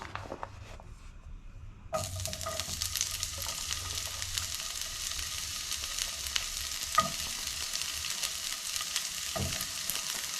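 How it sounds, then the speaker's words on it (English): Sweet peppers hit a hot skillet and start a soft, steady sizzle that continues close by, with a few light stirring scrapes and knocks. "Got a little hot skillet going right now. Throw some of the peppers in there first."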